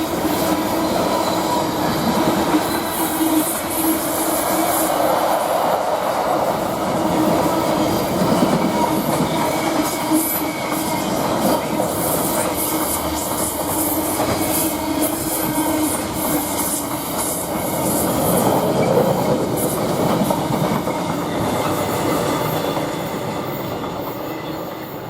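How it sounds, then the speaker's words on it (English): A train passing through Chelmsford station, with a loud, steady rolling rumble of wheels on rails and occasional squeals and rhythmic clacks that last throughout before easing slightly at the end. "So we get another train"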